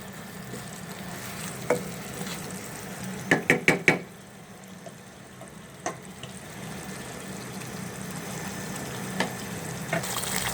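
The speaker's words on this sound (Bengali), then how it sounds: "মশলার সাথে মাংসগুলিকে মিশিয়ে দেব এই অবস্থায় কিছুক্ষণ রান্না করে দেব মাংস রান্না করব" Chicken pieces cooking with spices in a pan for a rezala curry give a steady, close sizzle, broken by a few sharp knocks and a quick cluster of clinks as the meat is stirred.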